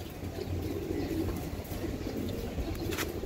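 Flying pigeons of a Bangladeshi giribaz line coo softly and continuously, low and murmuring, close by in a quiet loft.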